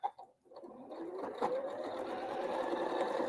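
A sewing machine stitches quilt block seams close by, starting after a couple of soft clicks and running in a steady, fairly quiet whir to the end.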